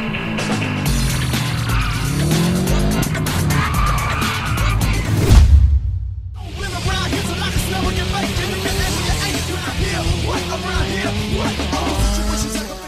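A car running hard on a race track, its engine roaring loudly and continuously with pitch shifts and a brief tire squeal, cutting out for a moment before the drive resumes.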